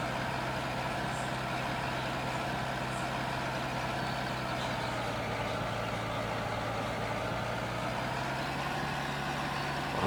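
A farm tractor pulling a plough runs steadily, a continuous low engine drone with a constant hum that stays even and close for the whole stretch, no voices.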